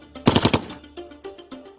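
A German Spandau machine gun firing 7.92 mm rounds lets off a quick burst of about five sharp, loud shots, followed by fainter echoing reports.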